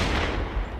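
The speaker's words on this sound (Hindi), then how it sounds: "पीछे से एक गोली चलने की आवाज सुनाई देती है" A loud, close gunshot effect in a desert chase scene, a dense roaring blast of noise that fills the whole moment with no talk over it.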